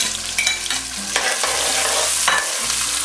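Onions hiss and sizzle as they hit a hot pot for a seafood enchilado, a loud, steady fry with a few sharp crackles and spoon-against-pot stirring knocks.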